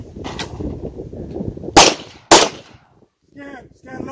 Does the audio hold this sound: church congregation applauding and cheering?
no